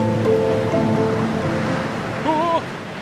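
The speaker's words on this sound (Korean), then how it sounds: "점점 더 파도가 거세지고 있어요." Ocean waves surge and wash in a storm that is growing stronger, a loud continuous roar of surf under a few brief tonal music or effect sounds, with no speech.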